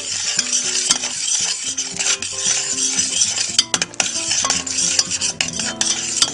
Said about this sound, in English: it's a lot of butter to add to the sugar, so I'm whisking it vigorously to mix all that butter in.